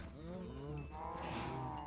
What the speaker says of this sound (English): I think that we should breed up our cows